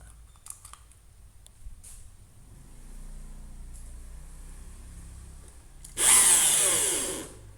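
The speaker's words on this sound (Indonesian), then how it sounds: "Untuk beban listriknya akan saya hubungkan bor." A few faint clicks and a low hum, then an electric drill powered by a 1200VA pure sine wave inverter whirs loudly for about a second and a half before spinning down.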